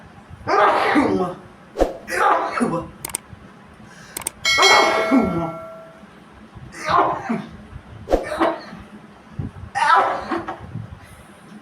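A person sneezes again and again in a sneezing challenge, a run of sharp, explosive bursts spaced a second or two apart, mixed with voices and laughter nearby.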